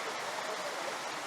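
A waterfall pours steadily after a muddy game, a dense, even roar of rushing water close by with no pauses.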